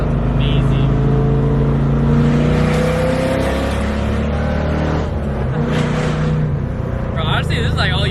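A V8 LS-swapped Scion FR-S revs up close, a loud, steady low engine drone with rising harmonics, while voices talk over it throughout.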